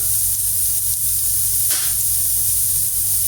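Turmeric and chili powder going into fried ginger and garlic in a pan for aloo gobi, a loud continuous hissing sizzle with a brief swell as the spices hit the oil.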